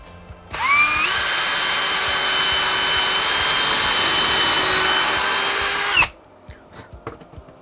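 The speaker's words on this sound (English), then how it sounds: "Once it's in place I can use a drill bit to make some pilot holes" A power drill boring pilot holes in oak, a steady high whine that rises as the motor spins up, holds loud and even for about five seconds, then cuts off abruptly.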